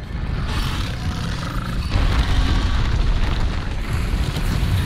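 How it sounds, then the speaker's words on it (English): Roaring explosions fill a Monster Hunter World Iceborne battle, a loud, dense rumbling blast that swells and rolls continuously with no voice over it. "I must have walked through some of the leftover explosions"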